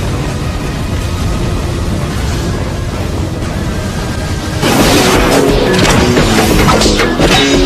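Chained paper-tag explosions from Naruto anime, a dense, loud, continuous rumbling roar of blasts that swells and brightens into harsher crashing midway.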